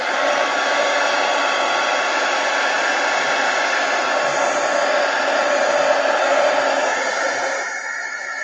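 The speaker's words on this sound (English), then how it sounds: "heat gun." A heat gun blows hot air to dry gessoed paper in an art book, a steady loud rushing hiss that holds unbroken and eases slightly near the end.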